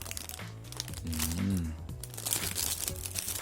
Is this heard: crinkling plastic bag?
yes